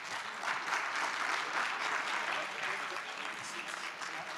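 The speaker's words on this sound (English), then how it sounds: "Let's give them a round of applause" Audience at a regulatory panel event applauds the panel speakers as they come up, a steady, moderately distant wash of clapping holding evenly for several seconds with possible murmured voices underneath.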